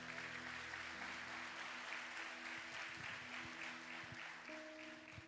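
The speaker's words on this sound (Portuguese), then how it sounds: "Você pode aplaudir a Ele nessa noite?" A church congregation applauds during an evening sermon, a steady wash of many hands clapping at moderate distance with a sustained organ or keyboard tone underneath.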